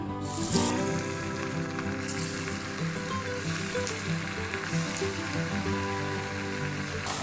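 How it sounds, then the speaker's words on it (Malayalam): Masala vada frying in hot oil gives a steady, dense sizzle and crackle that stays even and fairly loud throughout, with no voices. "ഇനി ചൂടായ എണ്ണയിലിട്ടത് ഫ്രൈ ചെയ്തെടുക്കാം"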